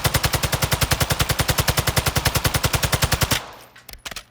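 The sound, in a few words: TAQ 56 gun firing in a video game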